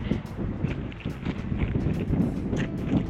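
Wind buffets the microphone near a mountain summit on a Colorado hiking trail, a steady low roar and rumble filling the whole moment.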